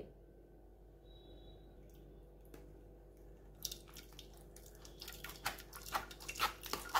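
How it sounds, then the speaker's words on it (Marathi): Drumstick pulp is strained with a little water in a pressure cooker, starting as quiet, faint background, then building into wet squishing, dripping and soft clinking sounds that grow louder and more frequent toward the end. "याच कुकरमध्ये आता मी हा सगळा पल्प गाळून घेते."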